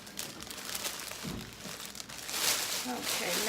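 Cellophane crinkling and rustling as it is gathered up around a gift basket, a close, continuous crackle that grows louder toward the end, with a voice speaking over it.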